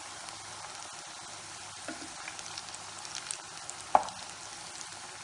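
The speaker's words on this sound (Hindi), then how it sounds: "इसे अच्छी तरह से गोल्डन कलर होने तक फ्राई करेंगे" Raw papaya kofta balls fry in a pan of oil, a steady soft sizzle running throughout with faint crackles and one brief sharper pop near the end, moderately quiet and close.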